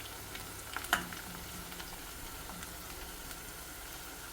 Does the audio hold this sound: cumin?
yes